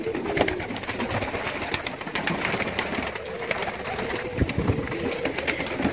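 Pigeons in a pigeon loft coo repeatedly in soft overlapping calls over rustling and fluttering, close and moderately loud, with no talking.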